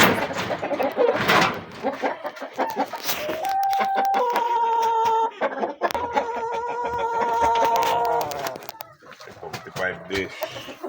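Backyard pet chickens and a turkey cluck and squawk in bursts, with a sustained crowing call in the middle, while a person talks nearby.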